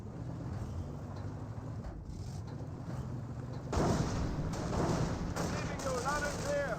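Mortar fire in the World War II strategy game Company of Heroes 1, in a Panzer Elite versus US match: a heavy blast lands midway and is followed by a rolling, rumbling barrage of explosions under steady battle noise, with someone talking over it.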